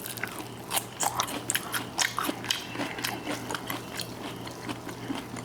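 Close-up crunchy bites and chewing of Haitian fish eaten with fresh cucumber, a string of crisp, irregular crunches in the foreground.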